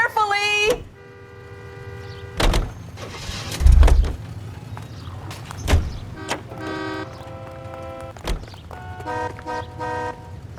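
A car driven through the streets in the video game L.A. Noire, with the engine running steadily, several short horn toots and a longer honk, and a voice speaking briefly over it.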